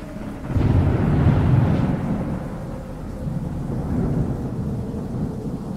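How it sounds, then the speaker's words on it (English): Distant thunder rolling in from gathering storm clouds, a deep continuous rumble that swells early and then settles into a long low roll, heard alone with no voices. "And then I notice the distinct rumble of thunder in the distance."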